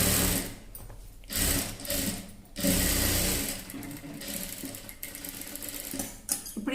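Sewing machine running steadily as it stitches the side seam of a child's frock body, a close whirring drone broken by a few short pauses and restarts.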